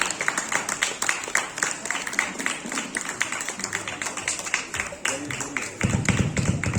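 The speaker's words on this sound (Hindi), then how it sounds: "जोरदार तालियों से स्वागत करेंगे।" Audience at a parish competition in Sambalpur, held for the May procession, applauds prize winners with steady, moderately loud clapping throughout, swelling louder near the end.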